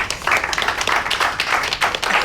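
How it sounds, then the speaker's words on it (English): An audience at a Toastmasters meeting breaks into applause, dense overlapping hand claps filling a short, fairly loud burst with no speech over it. "Please give a big round of applause to him."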